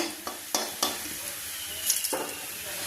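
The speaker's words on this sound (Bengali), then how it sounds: "রসুন কুচিগুলি ভাজা হয়েছে লাল লাল করে" Steady sizzle of chopped garlic frying in oil until reddish, with a few sharp scraping stirs of a spatula against the pan, no voices.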